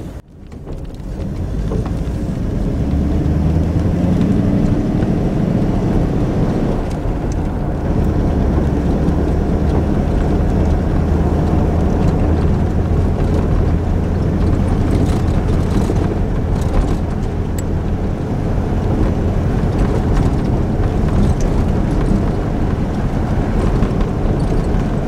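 A Ford V8 Pilot with a flathead V8 and cross-ply tyres rolls down an old airfield taxiway, a steady low engine rumble mixed with broad wind and road noise throughout.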